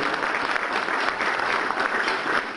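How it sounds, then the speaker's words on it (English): An audience at a State of the City address in Twinsburg claps in a steady, full round of applause lasting a few seconds, close and consistent throughout. "They deserve a big round of applause"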